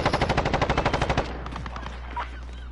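Rapid automatic gunfire from a weapon in Call of Duty, about fourteen evenly spaced shots in quick succession, loud and close. The burst stops abruptly and faint game sounds follow.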